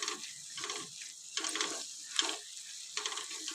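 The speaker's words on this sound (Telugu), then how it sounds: "ఒక 5 మినిట్స్ వరకు మనం ఇట్లా కలుపుకుంటూ టమాటాలు అనేది మెత్తగా" Tomatoes being stirred in a pan with a spoon while they soften over heat, a close, steady sizzle broken by repeated scraping strokes of the stirring.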